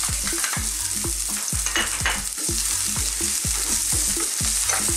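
Garlic and onion fry in oil in a frying pan as the filling for a Filipino chicken empanada, with a steady sizzle and a regular scrape-and-stir rhythm from the utensil, close and without talk.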